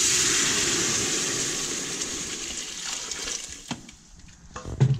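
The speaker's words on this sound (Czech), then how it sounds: "A hned zalejeme vodou." Water pours into a cooking pot of paprika and sautéed onion for tripe soup, a loud rushing splash that fades to a gentle bubbling sizzle with a few clinks near the end.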